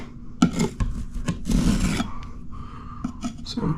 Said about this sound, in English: Spread it out, get some of this excess off.